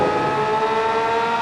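A racing car launching from the start line in the mobile racing game Need For Speed No Limits, a loud, steady, high-pitched engine whine held throughout with no talk over it.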